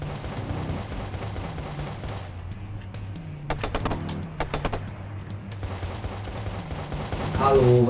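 Gunfire in the video game Watch Dogs, with bursts of shots and rapid volleys over a constant game background with music, mostly clustered in the middle.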